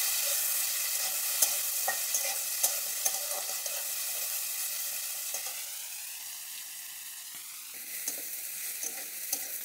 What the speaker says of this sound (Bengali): দিয়ে দেবো পেঁয়াজ, টমেটো। এগুলো একটু ভালো করে ভেজে নেব।